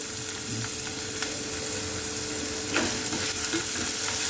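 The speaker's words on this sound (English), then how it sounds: "Now we'll cook the onion and till it's translucent." Finely chopped onion frying in a pan for soya poha, a continuous close sizzle with a few soft stirring scrapes, no voices.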